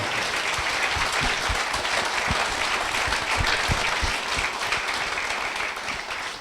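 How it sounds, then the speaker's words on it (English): Steady, dense applause from an audience at a live Wrexham football club Q&A evening, sustained loud clapping filling the whole stretch with no talk over it. "That deserves a round of applause, that answer."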